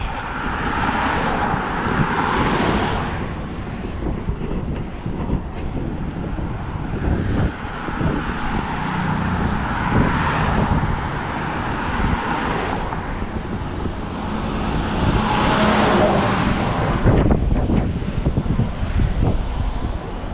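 Big trucks and cars pass along a road in Maine, heard from the roadside as a continuous loud rush with repeated swells as vehicles go by, mixed with heavy wind buffeting on the microphone.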